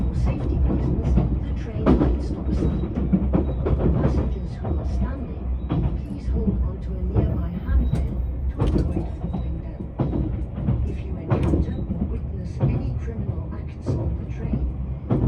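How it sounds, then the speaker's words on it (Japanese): A Yakumo 273 series limited express train running along the Hakubi Line near Ishigaki Station, heard from inside the car as a steady low rumble with rhythmic rail clicks and thumps throughout. "列車は石垣駅の手前を走行しています。"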